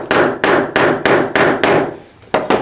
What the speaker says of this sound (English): Just take a hammer or something lightly and just tap this.